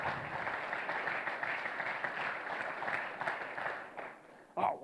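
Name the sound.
audience applause at a conference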